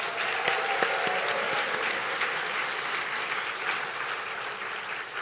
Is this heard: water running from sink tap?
no